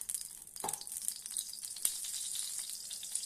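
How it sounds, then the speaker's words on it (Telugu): Spoonful of oil crackling and sizzling in a kadai before ridge gourd pieces go in for a ridge gourd tomato chutney, a steady close hiss with a couple of sharper pops and no talking. "అదే కళాయిలో ఇంకొక స్పూన్ ఆయిల్ వేసుకోండి చాలు."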